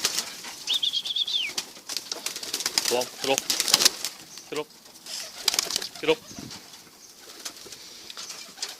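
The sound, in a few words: tippler pigeon flapping wings and cooing in loft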